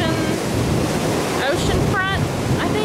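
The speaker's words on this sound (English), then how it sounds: "We're at the beach." Ocean surf at a rainy Myrtle Beach oceanfront on a dark night, a steady loud wash of waves roaring with wind buffeting the microphone, and brief faint voices rising over it near the end.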